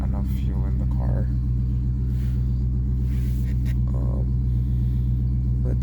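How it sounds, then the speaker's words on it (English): A Dodge Charger Daytona idles at an auction lot, a deep steady low rumble with a pulsing tone running throughout, while people talk nearby over it. "But yeah, that's a nice sounding car."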